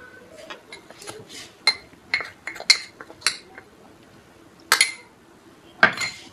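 Okra mixed with gram flour (besan) in a bowl, scattered clinks and scrapes of a spoon against metal and glass, irregular and close, with quiet pauses between bursts.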